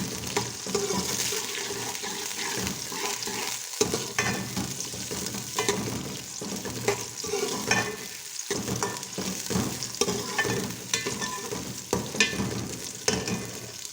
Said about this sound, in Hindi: अब मैं डालूंगी इसमें प्याज़ों को करेंगे मिक्स।